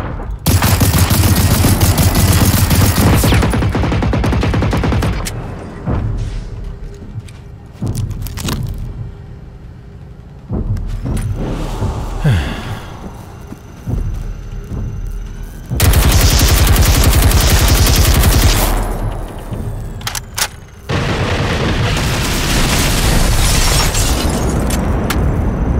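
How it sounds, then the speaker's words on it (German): Heavy machine gun bursts and booming explosions from a combat scene in the video game Generation Zero, loud and sustained, coming in long dense waves with short quieter gaps between them. "Und schießt er nochmal Maschinengewehr oder nicht?"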